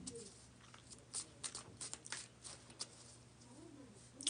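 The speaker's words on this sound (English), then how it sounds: "Just a few more shuffles" Tarot cards are shuffled quietly up close in a series of soft, irregular riffling taps and slides, low in level against a faint steady background hum, with no talking.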